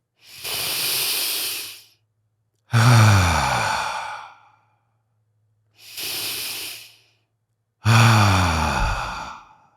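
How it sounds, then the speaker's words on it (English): Deep breaths drawn in through the nose and let out slowly through the mouth during a guided relaxation, two full cycles of audible inhale and long sighing exhale, close and clear with no talking. "take a big deep breath through your nose, belly rises. Long exhale through your mouth."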